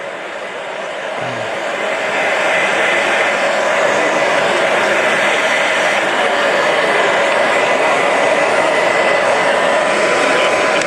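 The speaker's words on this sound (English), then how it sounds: "I like to use a hairdryer all the time" A steady loud broadband blowing roar starts up and holds constant, like a hair dryer running close by with no break.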